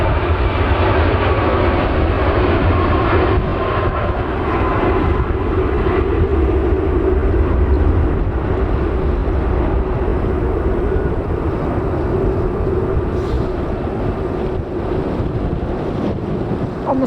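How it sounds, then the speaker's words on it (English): A Ryanair Boeing 737 MAX 8200 airliner passing at Manchester Airport gives a loud, continuous broadband jet roar that holds steady throughout, with wind buffeting the microphone. "Just going past now is Ryanair going to Rome, Boeing 737 MAX"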